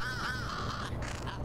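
A crow caws in the video game Little Kitty, Big City, a fairly faint call set over a steady ambient game background.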